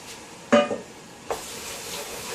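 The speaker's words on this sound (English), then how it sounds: "Give your beans a good little stir around there" Beans are stirred in a frying pan at home: two scraping, clattering sweeps of a utensil through the saucy mixture over a soft, continuous sizzle, close and fairly loud.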